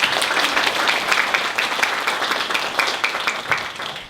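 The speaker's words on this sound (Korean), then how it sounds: "우리 박수 한번 할까요?" An audience applauds together at a church gathering, a steady dense wash of many hands clapping that holds loud and even for about four seconds before tapering slightly at the end.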